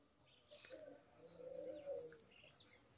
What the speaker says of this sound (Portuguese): Já é quase 7 horas da manhã e tá assim, ó. Cantando bem.